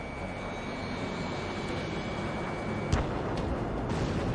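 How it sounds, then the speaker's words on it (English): A missile launch in the Ace Combat 7 jet combat game, a sharp whoosh-crack burst near the three-second mark over continuous loud jet engine roar, with a steady high whine throughout. "Mage 2, missile launch"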